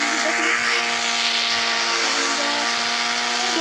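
A boat motor runs at night on the water, giving a loud, steady, close droning hum with a tonal engine whine that holds unbroken throughout.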